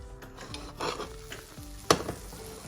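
Butter melts in a pan on the stove while cooking salmon with a garlic lemon sauce, a soft low sizzle under light scrapes and clinks of a utensil, with one sharp metallic clank near the end.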